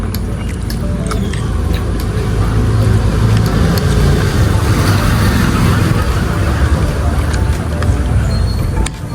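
A car cruises steadily along a clear road in the early morning, with a constant broadband road and engine rumble throughout, sharp faint clicks on top and no traffic sounds.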